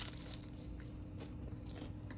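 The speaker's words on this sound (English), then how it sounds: "you hear that crunch?" A crunchy, buttery croissant egg boat bitten into up close, giving a short burst of crisp crackling crunches over a steady background hiss, with no talking.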